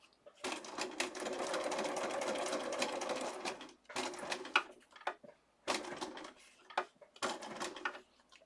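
Sewing machine stitching through paper, a close steady mechanical whirr that runs for a few seconds, then stops and restarts in short bursts as the paper is pivoted at corners.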